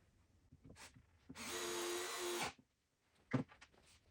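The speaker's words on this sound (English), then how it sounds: "I will pre-drill and attach" A power drill whirs for about a second, pre-drilling into a wooden frame under cushion upholstery, followed by a few light knocks and taps.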